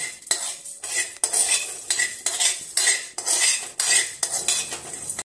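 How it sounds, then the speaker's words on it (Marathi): Dry spices roasting in a kadhai over medium heat, a spatula scraping and clinking against the metal pan in a steady repeated rhythm of strokes, close and fairly loud, with no talking. "मसाल्याचं साहित्य घेतलंय हे आपल्याला एका कढईत टाकून ते साधारणतः 5 ते 6 मिनिटं मध्यम आचेवर भाजून घ्यायला लागेल।"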